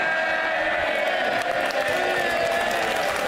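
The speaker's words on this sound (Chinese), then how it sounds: "人拍手叫好" Members of the UK House of Commons clap and cheer after Boris Johnson's farewell speech, a dense, continuous wall of applause mixed with shouts and whoops from a packed chamber.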